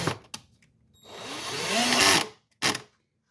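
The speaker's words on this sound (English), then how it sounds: "And I have my drill. I usually set it to 1 or 2 just to get it started." A power drill on a low setting drives screws while restoring a Ludwig gold sparkle bass drum, giving one rising whir of about a second, close and fairly loud, with short clicks before and after.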